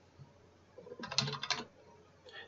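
A short burst of typing on a computer keyboard while writing C++ code, a quick cluster of close, crisp key clicks lasting about half a second, with quiet room tone around it.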